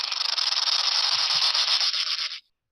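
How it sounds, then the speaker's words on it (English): Real cicada call heard in an episode of The Flash, a dense rasping buzz of rapid clicks, loud and continuous for over two seconds before stopping abruptly. "That kind of clicking sound, yeah. Yeah. That's the sound of a real cicada."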